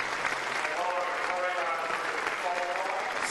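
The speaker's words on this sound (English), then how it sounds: "The crowd was enthralled all the way through, and they show their appreciation for Lauren Davis" A tennis crowd at the 2013 Moorilla Hobart International applauds Lauren Davis with sustained, even clapping that holds at full strength throughout, while a commentator speaks over it.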